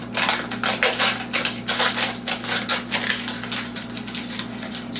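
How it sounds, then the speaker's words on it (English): Crinkly wrappers are peeled off frosting ingredients by hand, giving a dense run of close, crisp rustles and crackles in quick irregular bursts, with a steady low hum beneath. "So take these out of the wrappers and put them in a bowl"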